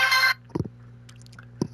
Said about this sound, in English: Hello, Moto. Hold on. It's my, gotta take this phone call.